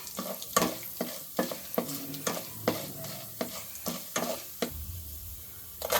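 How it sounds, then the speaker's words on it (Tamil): Mustard seeds splutter in hot oil alongside chillies, a close crackle of sharp pops and sizzles at an irregular rhythm, with no talking. "இந்த கடுகையும் போட்டுக்கலாங்க போடுறோம் இப்போ எல்லாம் பொரியட்டும்"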